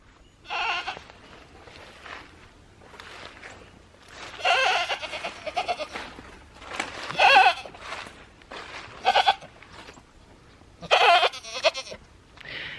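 Repeated bleats from a goat buck on a homestead goat-breeding operation, loud and close, coming in irregular bursts with short pauses between calls.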